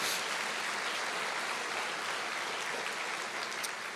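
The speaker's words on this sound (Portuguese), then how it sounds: "você pode dar uma salva de palmas para o Senhor" A church congregation applauds during a sermon, a steady, continuous wash of clapping held at an even, moderate level throughout with no voices on top.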